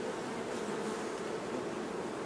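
Honeybees buzz steadily around a hive frame during a beekeeping inspection, a dense, continuous swarm drone close by with no voices.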